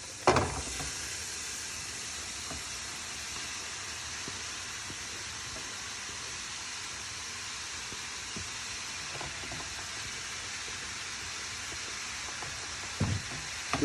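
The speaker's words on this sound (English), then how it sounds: "We're going to go ahead and add all our chopped peppers." Chopped peppers sizzle with caramelizing onions in a pan for a sofrito-style pepper base, a steady close hiss running evenly throughout with a few faint clicks and pops and no talking.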